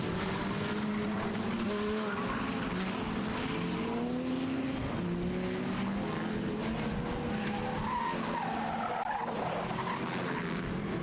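Race cars at Star Speedway roar through a V6 Enduro as one slides sideways down the back straightaway, with squealing tires over a continuous, distant engine din.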